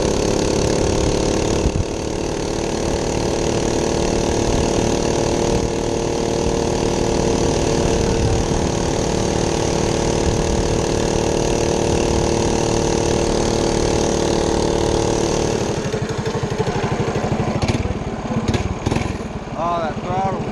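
A Monster Moto 105cc mini bike engine runs loud and close for about twenty seconds, holding a steady buzzing drone with throttle rises and a rougher patch near the end.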